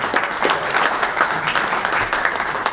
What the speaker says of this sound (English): Please, everyone, a round of applause for Coach Schnellenberger.